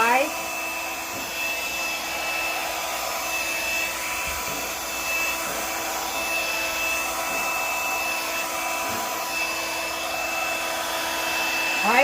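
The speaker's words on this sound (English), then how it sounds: "I'm going to be using a blow dryer." A blow dryer runs steadily and loud throughout, a continuous whooshing hum with a constant high whine, used to spread white paint over a base for acrylic pouring.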